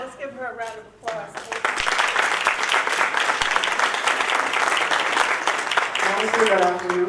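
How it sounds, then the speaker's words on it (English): An audience at a women's community meeting breaks into sustained applause, dense steady clapping that swells after a brief pause and carries on loudly for several seconds, with a voice speaking at the start and end. "Let's give her a round of applause."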